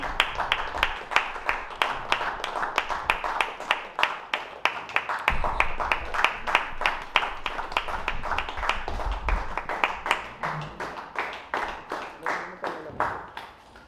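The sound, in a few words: applause at a book launch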